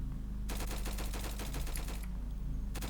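Gunfire in the Roblox game Flag Wars comes as a rapid burst of closely spaced shots lasting about a second and a half, followed by a brief pause and a final shot.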